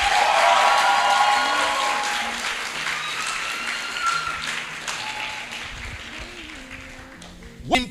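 An audience at a motivational seminar in Gombe claps for itself, applause loudest at the start and gradually thinning, with a voice speaking over the fading clapping and a sharp knock near the end.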